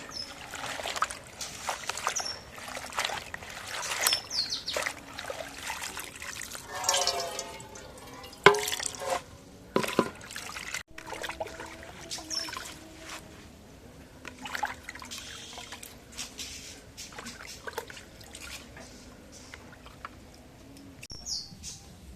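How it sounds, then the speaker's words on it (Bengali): Water splashes and trickles as leafy greens are rinsed and handled, with scattered drips and sloshes, some close clatter, and faint birdsong in the background. "শাকটা এখন ধুয়ে নেই।"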